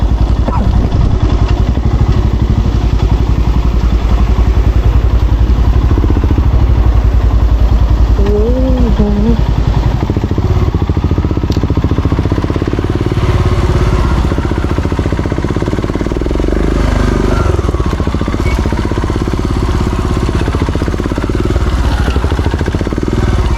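A motorcycle engine runs steadily on a rural path near a waterfall, a continuous low rumble with some clatter throughout, fairly close and loud, with brief voice sounds mixed in.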